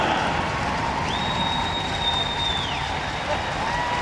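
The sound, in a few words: ice hockey fans cheering and applauding in arena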